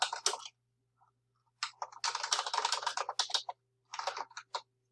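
Someone types a summary on a computer keyboard, producing close, crisp rapid clicking in several bursts separated by brief silences. A faint steady hum runs underneath.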